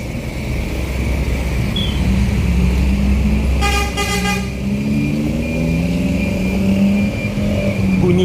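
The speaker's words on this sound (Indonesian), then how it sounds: "Bunyi horn akan selalu ada" Car horns toot in a busy morning market street during Ramadan, a short burst of repeated honks in the middle over rumbling traffic and engine noise nearby.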